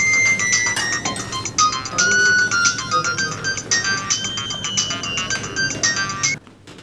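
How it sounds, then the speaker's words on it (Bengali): A phone ringtone plays loud and close, a repeating bright electronic melody that runs for several seconds and then cuts off abruptly near the end. "ফোন আসছে।"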